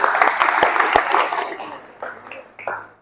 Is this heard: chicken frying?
no